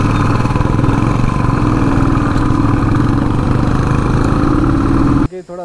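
A motorcycle engine runs steadily and loudly up close, a constant throbbing idle on a rough mountain road while the overheated bike has trouble, cutting off abruptly near the end.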